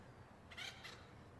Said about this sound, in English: Is this bird as loud as it is for me, as it is for you, as for me, as for you?